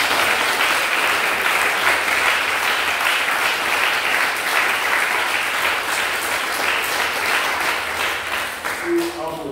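Church congregation applauding in acclaim of the Lord at a fire adoration service, a dense steady wash of many hands clapping throughout, loud and sustained, with the clapping thinning slightly near the end.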